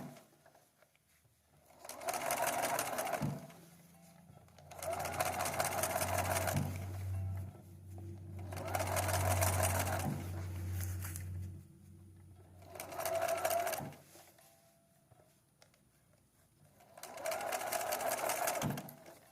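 A sewing machine stitching fabric for quilting runs in five distinct bursts of rapid, whirring stitches, separated by short pauses with a low hum between them. Close and clear, with no talking.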